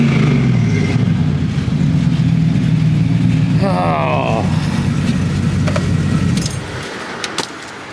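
An LS engine-swapped Chevrolet S10 pickup with smoky exhaust rumbles loudly and steadily at close range as it pulls away, the low drone cutting off near the end and leaving a few light metallic clicks and jingles.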